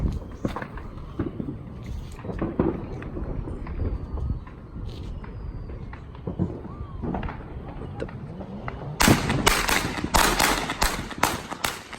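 Fourth of July fireworks crack and bang like gunshots: scattered sharp pops through the first part, then a loud rapid barrage of close explosions near the end, with people talking throughout.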